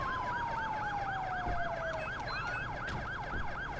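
Police car siren in the LSPDFR video game, a steady wailing sweep repeating about every quarter second, loud and close, with a long sliding tone fading beneath it during the first two seconds.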